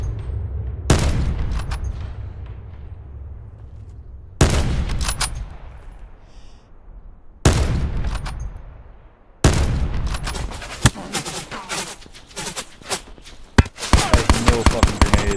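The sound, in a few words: gunfire in a video game shootout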